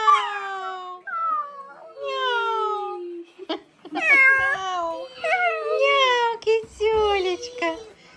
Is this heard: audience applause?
no